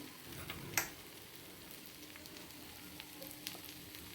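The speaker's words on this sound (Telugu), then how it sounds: "పెనం మీద ఎన్ని పడితే అన్ని వేయించుకోండి" Pieces of curry ingredients fry on a flat pan over a low flame, giving a faint, steady sizzle with one sharp crackle early on and a few soft pops after.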